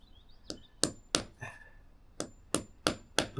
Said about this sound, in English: I use the back of my hammer. Make sure them plugs are well and truly in.